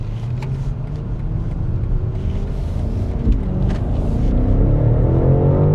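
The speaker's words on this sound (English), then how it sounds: "It just gets up to speed so fast." Twin-turbo V8 of a BMW X6 M60i accelerating hard onto a road, a steady loud low engine drone rising in pitch with road and wind rumble, heard from inside the cabin.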